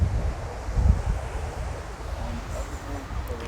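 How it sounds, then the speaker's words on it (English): Steady wind buffeting the microphone at a zoo, with low rumbling gusts and a broad airy rush that swells briefly near the start, no voices. "It's quite a windy day today."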